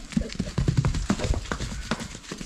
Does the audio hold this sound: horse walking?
yes